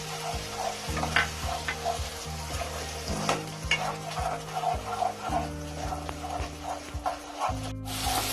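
Cashew paste, ground from eight to ten cashews, stirred into a frying masala for Bengali potol korma. A steady sizzle is broken by spoon scrapes and stirring clatter, with steady background music underneath.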